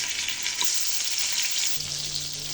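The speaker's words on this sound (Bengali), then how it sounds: "রুই মাছগুলো হলুদ লবণ দিয়ে মাখিয়ে নিয়েছি, এখন ভেজে নিব।" Rohu fish pieces rubbed with turmeric and salt fry in hot oil in a pan, making a steady, loud, continuous sizzle with no voices.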